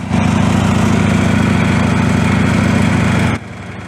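A motorcycle engine drones loud and steady at close range during a riding exercise, then drops off sharply near the end, with no voices.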